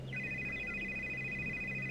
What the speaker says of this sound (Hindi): कोकिला अपने खानदानी पंडित जी को फोन लगाती है।